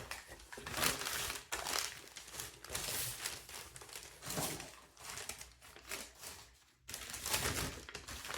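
Paper strips being folded and creased by hand for a journal, close crinkling and rustling in bursts with short pauses, no talking.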